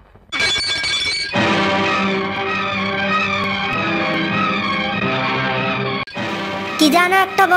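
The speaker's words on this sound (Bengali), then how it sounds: "সাত সকালে এমন সুন্দর বিদে কাশি কাপটা তুমি ভেঙে ফেললে।" In a cartoon fairytale scene a cup falls and shatters, opening with a crisp breaking crash, followed by a long sustained tonal musical passage and a bright tinkling flourish at the end.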